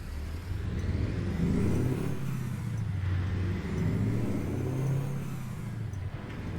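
Engine of a 1978 Mack ENDDT865 285hp truck in American Truck Simulator, a steady low diesel drone with rising and falling revs, loud and continuous throughout with no talking.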